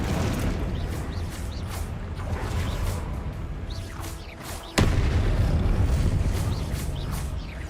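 Spells such as fire and blasting charms in a Harry Potter video game produce rumbling, booming blasts, with one sharp, loud crack partway through before the roar continues.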